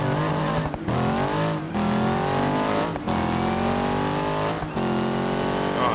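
A Mazda Miata and a tuned BMW M4 drag race in BeamNG, engines screaming hard through repeated upshifts, each gear climbing in pitch before short breaks, loud and continuous.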